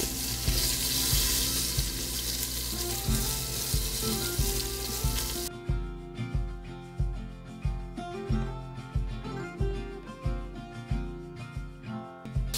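Floured bean fritters going into a frying pan, a loud continuous sizzle that settles into rhythmic bubbling pops with faint clinks, close and without talk.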